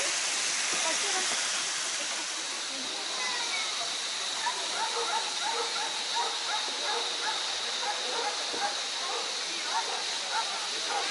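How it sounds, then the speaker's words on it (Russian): Dogs bark repeatedly in short bursts beside a three-tier waterfall, their calls rising over a constant loud roar of falling water, with people talking nearby. "Собаки гавкают."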